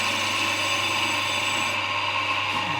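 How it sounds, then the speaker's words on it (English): A Scotch-Brite wheel spins on a power tool, cleaning Royal Enfield motorcycle parts, giving a steady, loud, close whirring and abrasive rub that holds continuously without pause. "I think a few people have asked me about these wheels I'm using. It's just Scotch-Brite"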